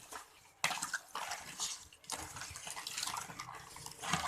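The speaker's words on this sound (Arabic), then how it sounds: "غنشد داك الماء ديال الحامض اللي عصرنا، ها هو غنزيدوه على داك السنيده والقشره اللي حكينا" Squeezed lemon juice is poured over grated lemon peel and pulp, a soft liquid splashing and trickling that starts abruptly and continues faintly at close range for a few seconds.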